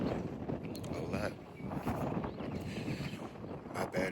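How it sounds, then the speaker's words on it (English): Gusty outdoor wind buffets the microphone in a continuous rough rumble while a person keeps talking over it. "My bad if it's real windy out here, y'all."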